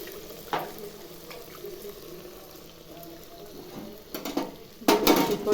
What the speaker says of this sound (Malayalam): നമുക്ക് എണ്ണയിലിട്ട് കൊടുക്കാം.